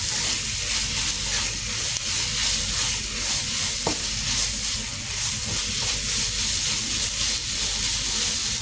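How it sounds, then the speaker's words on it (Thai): Pork stir-fries in a hot pan for a Thai braised dish with roasted rice powder, a loud, steady, close sizzle and hiss with soft stirring scrapes running throughout. "คั่วให้หมูตึงๆเลยจ้ะ"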